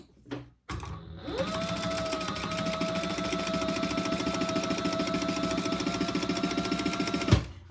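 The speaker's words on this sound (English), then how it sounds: "So I'm going to start on the bottom, and I'm going to sew on 3 sides." An industrial sewing machine stitching a bag. It starts with a clack, then runs at a steady, fast, humming whir for about six seconds and stops with a thump.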